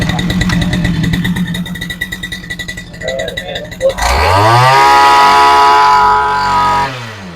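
A rotary farm machine's engine runs loudly at close range with a rough, rapid chugging, then is throttled up into a rising, sustained high-revving whine before dropping off.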